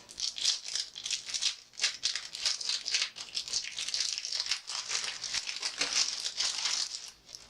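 Plastic packaging around a school supply item is crinkled and crumpled as it is pried open, a close, busy rustle of crackling and rattling with short tearing bursts and no talking.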